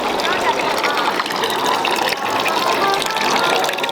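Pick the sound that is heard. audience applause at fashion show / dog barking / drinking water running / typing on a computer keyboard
drinking water running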